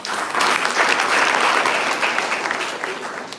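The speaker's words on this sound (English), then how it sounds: "Can I give a round of applause to that?" An audience gives a sustained round of applause at a poetry prize event, dense steady clapping that fills the room, loud throughout and fading slightly toward the end, with no talking over it.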